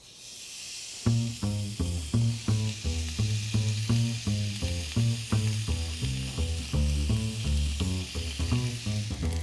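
A New York steak sizzles in a hot grill pan, a steady bright hiss running throughout beneath rhythmic background music.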